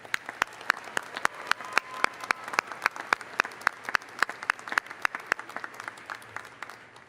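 An audience at a spring university commencement applauds the graduates. The clapping is fairly faint and sparse, with distinct individual claps in a steady, even rhythm that holds throughout.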